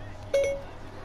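Siri activation chime on a phone: one brief, soft electronic tone, faint above a low background hum.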